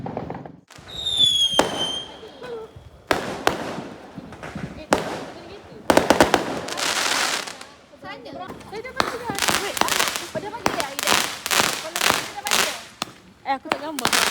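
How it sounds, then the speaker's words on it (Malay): Fireworks and firecrackers going off at a house in Tanjung Piai, Johor: a whistling rocket followed by a rapid series of sharp, loud cracks and bangs, some in quick crackling bursts, with voices talking between them. "Sekarang ni nak main bunga api guys."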